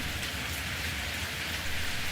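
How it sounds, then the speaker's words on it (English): Steady rain patters close by in a soft, continuous hiss of drops on a surface, even and unbroken throughout with no voices. "The rhythmic pitter-patter of the rain does that to me."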